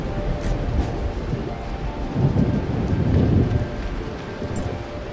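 A thunderstorm in the video game Tower of Fantasy, with steady rain and wind noise under a low thunder rumble that swells in the middle and then eases. No one speaks.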